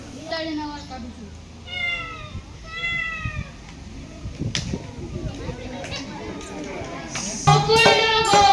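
A child imitates a cat's meow with several rising and falling wavering calls, close and clear, amid a school activity with other children's voices and chatter in the background.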